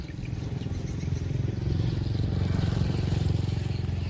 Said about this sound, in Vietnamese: Mình đang đợi cái anh ghe này lên nè.